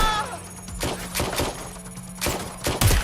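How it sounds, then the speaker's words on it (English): Several sharp gunshots crack out in bursts in the video game Watch Dogs: Legion, a few isolated shots followed by a louder cluster near the end, over a steady low hum. "Watch out! I'm hearing gunfire."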